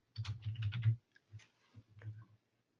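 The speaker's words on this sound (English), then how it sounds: "I type in Autotune" Fingers tap a computer keyboard up close, a short quick burst of keystrokes followed by a few scattered clicks, quiet and with no voices.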